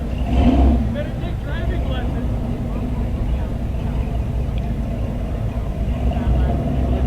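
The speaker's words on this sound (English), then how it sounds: "Oh, there's Tommy parking his purple vehicle." At an outdoor car show, a purple car's engine idles low and steady as the car is parked. A short rev comes near the start, and people talk over the engine.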